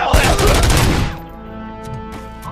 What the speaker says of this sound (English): Sorry, I'm being shot at.